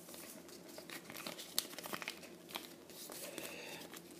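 Origami paper is folded over along pinched creases, giving a quiet, close crinkling and soft crackling with a few sharper crisp rustles.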